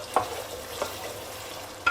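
Goat liver kaleji cooking in masala and oil, a soft sizzle from the pan with a few light scrapes of stirring, close and quiet.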